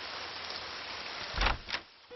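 Rain falls as a steady, even hiss, then a couple of brief, louder knocks break in near the end.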